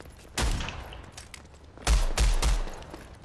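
Gunfire from a video game weapon with infinite ammo: a low background rumble broken by several loud, sharp shot bursts with trailing echoes, close and punchy.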